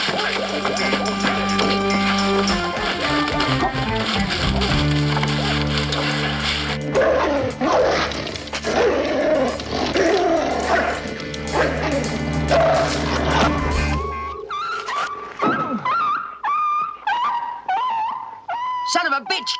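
Dog barking and yipping in a tense crime-drama shootout scene, loud and close, with repeated sharp barks and a whimper near the end, over music and shouted talk.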